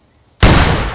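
A single loud gunshot goes off abruptly in the off-road driving game Offroad Outlaws during a bird hunt, a sharp burst that rings on for the rest of the moment, with no talking.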